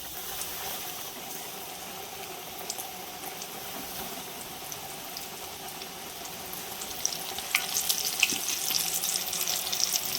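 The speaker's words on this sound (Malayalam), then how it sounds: "ഇനി പൊരിക്കാനുള്ള പരിപാടിയാണ്." Batter-coated chicken, KFC style, deep-fries in hot oil with a steady, close crackling sizzle that runs throughout and grows slightly busier toward the end; no voices.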